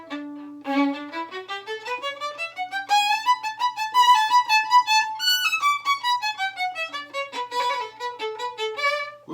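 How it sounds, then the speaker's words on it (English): A melodic instrument passage rises and falls in a run of quick, distinct notes, with a little trill played in place of a mordent, sounding close and clear with no voices over it. "Whoops, I did a little trill instead of a mordent."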